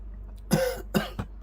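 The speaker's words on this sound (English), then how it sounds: "Excuse me, I was coughing." A short burst of three close coughs, the first two strong and the last lighter, with a low hum in the background.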